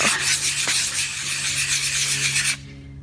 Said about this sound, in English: you can do your figure 8 sanding with this